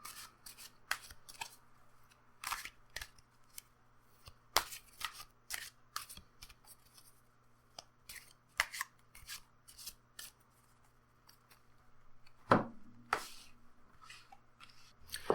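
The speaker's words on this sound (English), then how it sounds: "So I'm going to pull 2 cards." A Rider-Waite tarot deck handled and cards drawn at close range: scattered quick flicks, slides and soft snaps of card stock in irregular bursts against quiet background, with one louder cluster of shuffling near the end.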